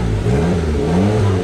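A buggy's engine revs loudly and close by in a steady, continuous roar, with a rising and falling pitch as the throttle is worked, and no voices over it.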